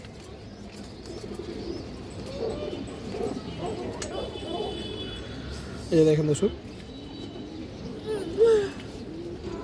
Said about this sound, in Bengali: খুবই সুন্দর একটা সিলভার মাদি কবুতর দর্শক